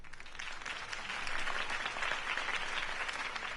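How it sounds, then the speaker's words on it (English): Crowd applauding and cheering at the close of a political campaign rally speech in the Batman Telltale Series game, a dense steady clapping that swells slightly and holds throughout. "could have heard that applause"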